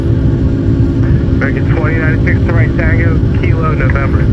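Antonov An-124 Ruslan heavy cargo aircraft on its takeoff run, a loud, constant engine roar from inside the aircraft, with crew voices calling out over the noise.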